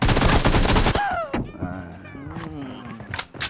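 Loud rapid G36C rifle fire in a video game, a dense burst for about a second, then someone talking with a few scattered shots later.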